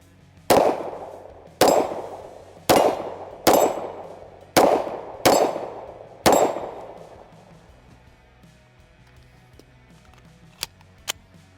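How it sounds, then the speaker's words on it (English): Seven sharp, loud shots from a Daniel Defense H9 pistol ring out at a steady pace, each with a short decaying echo, followed by quiet and two faint metallic clinks. "So let's shoot a few more rounds."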